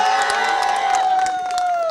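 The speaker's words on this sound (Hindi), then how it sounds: "तालियां हो जाए इनके लिए" Audience applause and cheering from a crowd at a live motivational talk event, with a loud held tone and crowd noise filling the short moment.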